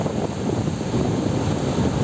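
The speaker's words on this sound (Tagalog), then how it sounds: "Ang lakas ng hangin dito. Pacific Ocean na kasi yan." Strong wind buffets the microphone on the Pacific Ocean shore at Lanca, Mati City, Davao Oriental, a steady loud broadband roar with faint surf mixed in and no talking.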